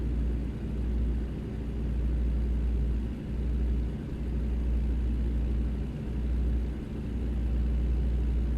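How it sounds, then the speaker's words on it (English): A Tesla passing a truck on a freeway in American Truck Simulator, heard as a steady low engine and road rumble with a couple of soft swells as the car goes by, with no talking. "I think that was a Tesla that just went by."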